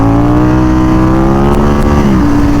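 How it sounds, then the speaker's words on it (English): Street motorcycle fitted with extra rims and an extra gas tank, engine loud and close, revving high and holding a steady rising drone through a second gear clutch-up. "I'm very curious how the second gear clutch ups go."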